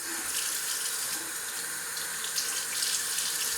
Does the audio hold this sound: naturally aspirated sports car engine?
no